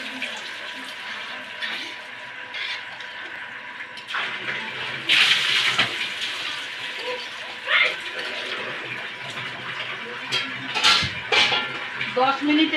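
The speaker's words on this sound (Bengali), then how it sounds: "পানি দিব।" Water pours into a pot of chicken curry with potato and green banana, a rushing splash with clinks of the pot and utensils, rising in bursts over a steady kitchen background.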